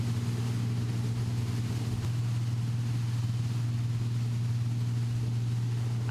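Cranchi 64 HT motor yacht cruising fast, a steady low engine drone with a strong deep hum and constant wind and water rush, unchanging and loud throughout with no voices.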